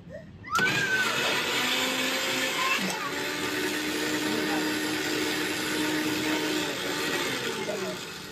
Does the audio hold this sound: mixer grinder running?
yes